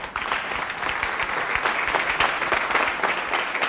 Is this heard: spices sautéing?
no